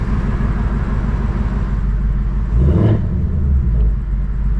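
A cold-started 2024 Mustang GT V8 engine idles with a steady low rumble, swelling briefly in a short rev midway before settling back to a smooth idle.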